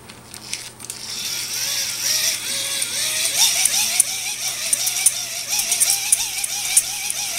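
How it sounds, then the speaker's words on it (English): A hand-cranked 5-volt generator is turned by hand, producing a continuous whirring, gear-like mechanical buzz with a wavering pitch that rises and falls with the cranking speed. "So this is the hand crank generator."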